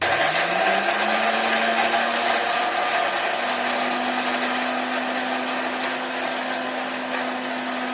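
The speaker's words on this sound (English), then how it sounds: "I added some crayfish into the Ogbono seeds, and I'm just going to go ahead to blend it until it becomes powder" A kitchen blender grinds ogbono seeds mixed with crayfish into powder, a loud steady motor whine that rises in pitch early and holds for the whole stretch, close and alone.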